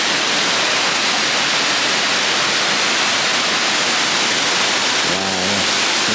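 A loud, continuous roar of a waterfall in Ketchikan, Alaska, steady and broadband throughout, with a faint brief voice near the end.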